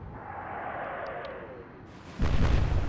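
Warship guns fire in the Atlantic Fleet naval game, a deep booming salvo that erupts near the end after a rising whistling whoosh, loud and rumbling.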